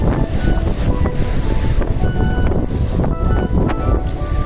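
Wind-driven sea surf at a village beach at Karikovil near Nellai, where eroded sand leaves rocks exposed; a steady, close roar of wind and breaking water fills the scene continuously.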